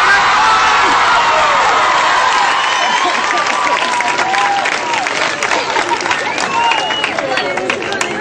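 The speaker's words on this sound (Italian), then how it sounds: "Adesso fate una prova di applauso come se lo spettacolo fosse il più bello che avete visto in vita." Enthusiastic test applause from a live theatre audience at a comedy show in Prunella: loud, sustained clapping with whoops, shouts and cheering voices throughout, close and continuous.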